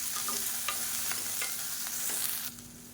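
Chopped okra sautés in a pan with a soft, steady sizzle and several light stirring scrapes; the frying hiss drops off near the end.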